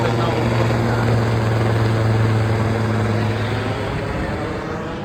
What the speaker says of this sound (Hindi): देखो भाई यहाँ पे हेलीकॉप्टर भी है